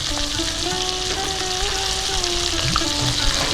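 Pomfret fish pieces fry in a pan over lowered flame, a close, steady crackling sizzle with a few light scrapes as the pieces are flipped; a faint tonal hum runs underneath and no one speaks.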